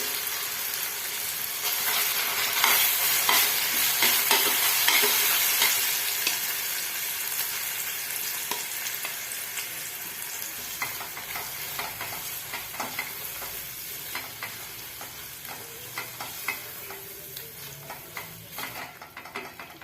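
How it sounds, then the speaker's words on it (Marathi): Ginger-garlic paste and ground masala paste fry in a pan for a brown gravy, giving a loud continuous sizzle with repeated scraping of a spoon as it is stirred. "आलं लसणाची पेस्ट टाकल्यानंतर मिक्सरमधून बारीक केलेली पेस्ट टाकून घ्यायची आहे"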